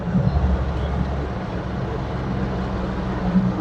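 A Jeep Comanche MJ pickup with a 5-speed manual cruises in fourth gear at about 35 mph, its engine a low, steady drone with road rumble heard from inside the cab.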